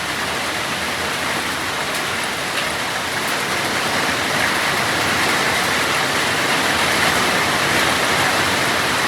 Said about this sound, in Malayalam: അതാ തകൃതിയായിട്ട് പെയ്തുകൊണ്ട് കേട്ടോ മഴ